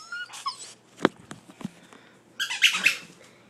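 A puppy plays with a squeaky ball, giving scattered high squeaks and whimpering yelps in short bursts, with a louder run of squeaks near the end, close by and with no talk.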